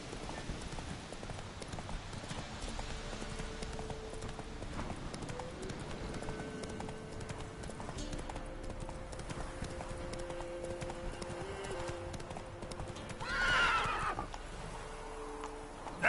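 Roach, the horse in The Witcher 3, trots with steady hoof clip-clops under background game music, then lets out a loud, clear neigh near the end.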